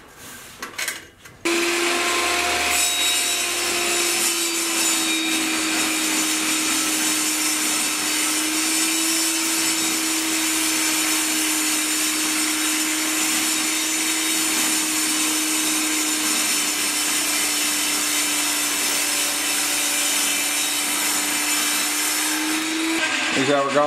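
A power saw, its blade torqued tight, cuts a wooden plate for a custom vacuum chamber, running as one steady, loud whine for about twenty seconds after a brief start-up.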